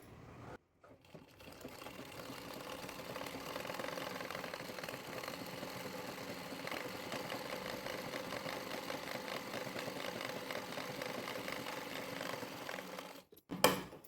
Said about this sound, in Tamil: இப்போது இதை சுற்றி அப்படியே ஓரமாக தையல் போட்டுக்கிட்டே வரலாம்